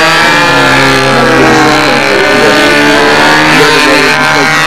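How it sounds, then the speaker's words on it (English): The side-mounted engine of a SeaFire model boat runs close and very loud, holding a steady buzzing drone that wavers slightly in pitch as it goes, with no other sounds. "I've been trying to listen for the motor run."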